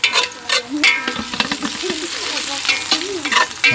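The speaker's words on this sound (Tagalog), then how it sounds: "mag-gisa na po tayo. Ano ito yung bawang para mabango." Garlic sautéing in a pot for pork pochero, a lively close sizzle with clattering stirring and scraping strokes that come and go over a few seconds.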